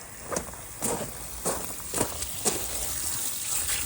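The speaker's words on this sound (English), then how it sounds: "We'll make it go a little faster by just sticking the hose in there." Water from a garden hose streams steadily into a yard catch basin outdoors, a continuous broad hiss with a few soft knocks and splashes, close and moderately loud, with no voices.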